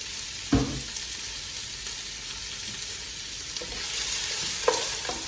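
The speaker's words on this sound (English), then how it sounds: "we're just gonna stir that up" Carrots and frozen peas sizzle in a pan, a constant close frying hiss with a couple of distinct knocks and scrapes from a stirring utensil, and nobody talking.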